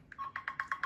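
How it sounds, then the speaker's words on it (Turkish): A phone rings with an incoming call, a faint electronic ringtone of repeated short bright pulses in a steady rhythm, heard alone. "Yine arıyor arkadaşlar, durmuyor bu Bartu"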